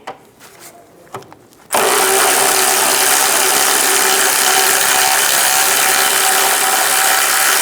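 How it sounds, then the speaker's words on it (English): A ratchet with a 17mm socket works loose the rear control arm bushing bolt on a 2003-2007 Honda Accord, with a brief quiet lead-in before a loud, steady, dense mechanical noise that fills the rest of the clip. "Using a 17mm socket,"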